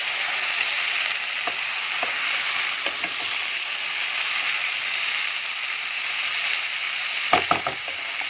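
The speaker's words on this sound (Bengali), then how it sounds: "কড়াইশুঁটিটা একটু ভাজা ভাজা হোক।" Green peas frying in oil in a wok, a steady close hiss of sizzling broken by occasional soft clicks and scrapes from stirring.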